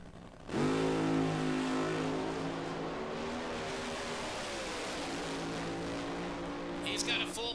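A nostalgia funny car making a full drag racing pass at 243 mph at RAD Torque Raceway, its engine roaring loud and sustained as it accelerates hard down the track, with a faint crowd and announcer audible in the background.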